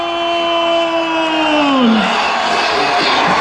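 Youth football crowd at an Iber Cup final roaring after a goal, a loud sustained yell with a long held voice sliding downward, then continuing broad cheering and whoops from the stands.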